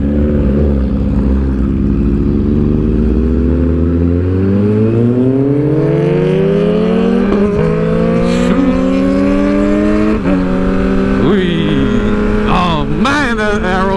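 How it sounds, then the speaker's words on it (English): A motorcycle fitted with an Arrow exhaust revs hard and close, its engine note climbing steadily in pitch and then wavering through repeated throttle blips near the end. "Man, that Arrow exhaust sounds so good."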